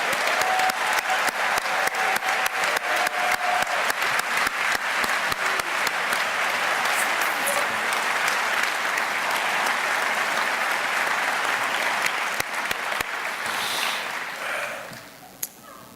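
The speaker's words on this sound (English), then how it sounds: "please give another round of applause" A large audience at a city's State of the City address applauds loudly and continuously for about fourteen seconds, with a dense roar of clapping that fades away at the end.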